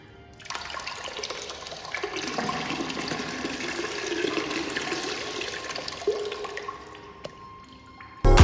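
Water runs steadily and splashes as someone washes inside a Turkish hammam, a moderate, continuous flow with small drips and knocks, ending in a loud bump.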